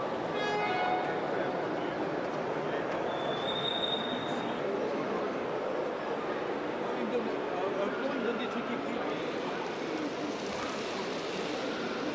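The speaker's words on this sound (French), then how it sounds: "les trains vont se présenter ici sur le viaduc de Saint-Denis-Catus" A faint, continuous rumble of model trains rolling along track over a viaduct, with a brief high squeal early on and a steady low clatter throughout.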